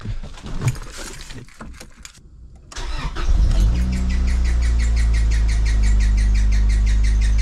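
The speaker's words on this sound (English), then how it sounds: "That sounds like a loose belt." Clunks and a key turning, then an Acura Integra GS-R engine cranks and catches, settling into a loud steady idle with a high belt squeal from a loose or overtight belt running on top.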